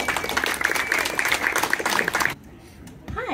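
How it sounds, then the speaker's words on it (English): Audience applause at a makerspace grand opening and art-and-tech exhibit reception, steady dense clapping from a room of people that stops abruptly, leaving near silence. "Give yourselves a round of applause"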